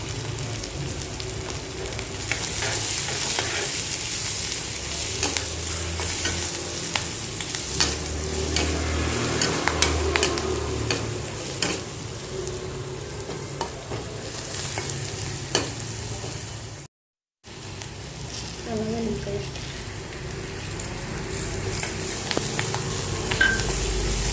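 Onions, curry leaves and turmeric frying in a hot pan, a steady loud sizzle with stirring scrapes running throughout, broken by one brief cut before the crackle resumes, with no talk.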